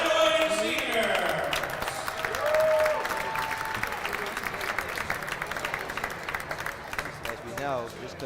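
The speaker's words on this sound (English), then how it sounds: "let's give one more round of applause for all our graduating seniors" Crowd applause honouring graduating seniors during a college basketball game, a broad steady roar of many hands clapping in a gym that runs the full length, with an announcer's voice over the opening moments.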